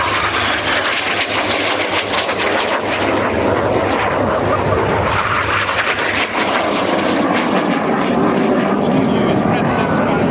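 Red Arrows display jets make a low synchro pass at the Biggin Hill 2009 air show, 100 feet apart at 400 mph each. A loud, continuous jet roar fills the whole stretch and swells slightly as they close.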